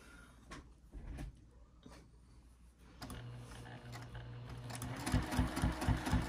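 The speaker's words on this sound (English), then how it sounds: "We're just going to go ahead and stitch, top stitch that down both sides at 1/8 inch seam allowance." Sewing machine top stitching a D-ring strap connector on a small zipper pouch, starting with a few short handling clunks, then a close steady motor whir and rapid needle thumps growing louder toward the end.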